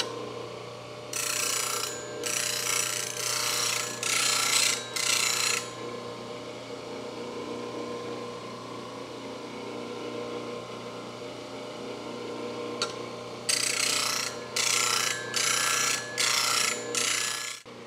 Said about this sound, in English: I'm using a CBN wheel, which cuts a lot cooler and faster.